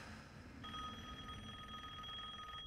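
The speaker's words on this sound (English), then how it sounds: "She's ignoring the phone." A telephone ringing in the horror game Resident Evil Village, a steady electronic ring that starts after a brief pause and continues unbroken over low ambient rumble, fairly quiet and at a distance.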